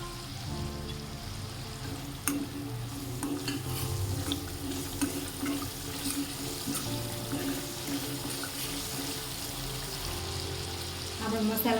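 Masala with salt being stirred in a pan for a Gujarati drumstick curry, sargava nu lotiyu shak, a continuous scraping and gentle sizzle with occasional clinks of the spoon, no voices.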